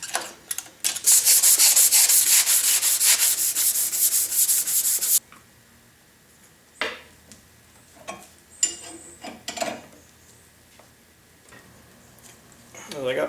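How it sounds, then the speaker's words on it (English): Body putty or epoxy is scraped off a Yates American J180 table, starting with a loud, fast rasping run of strokes that stops abruptly, followed by scattered, lighter scrapes and knocks. "I'll have to try to scrape off some of this body putty,"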